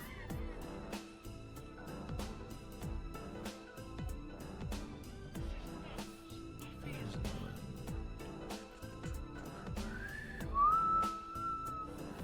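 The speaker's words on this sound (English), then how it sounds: "I don't want to whistle too loudly because my whistling might peak the mic" A person whistles a tune softly, a rhythmic melody of short notes with a brief rising, held note near the end, over steady background music.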